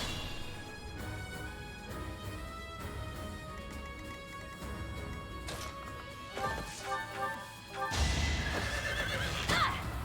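Horse neighing in Fire Emblem: Three Houses during a Silver Snow battle in the Valley of Torment, shrill whinnies over game music and clopping hooves, with a louder burst of neighs and impacts near the end.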